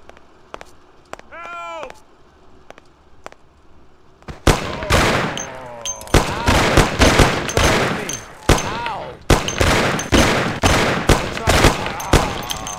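Gunfire in Mafia: The City of Lost Heaven, a few sparse shots at first, then a loud rapid burst of repeated shots with short gaps, close and dominant, with brief talk early on.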